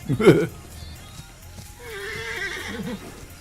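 A horse in the online pirate game Atlas whinnies loudly at the start, then a softer, wavering neigh follows a moment later, with a voice talking in the background.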